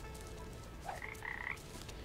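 Frogs croak in the video game PaPo & Yo, a short burst of faint, raspy croaks over a quiet ambient game background, with no speech.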